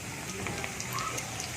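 Chopped onions fry in hot oil with whole cloves, cinnamon and rose petals, a soft steady sizzle with scattered small pops and crackles.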